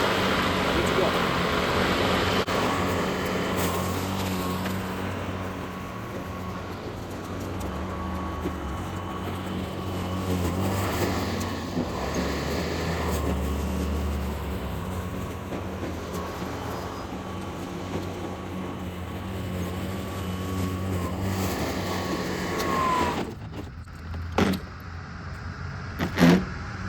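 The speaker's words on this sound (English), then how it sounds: "To get this one started, you hold the power button, then engage the blade, the blue lever." 40v electric lawn mower running with its blade engaged, a steady whirring motor hum with broadband rushing noise that persists throughout, ending with a few knocks and handling bumps as it winds down.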